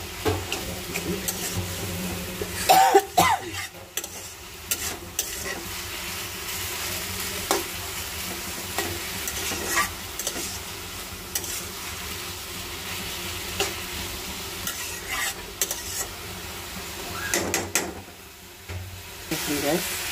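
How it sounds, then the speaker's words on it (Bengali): Bharta leaves simmering in a pot on a gas stove, a steady low bubbling and sizzle running throughout, with occasional louder clinks and stirring bursts, no talk over it. "দেখো আমার ভর্তা পাতাটা কত সুন্দর সিদ্ধ হয়ে যেতেছে।"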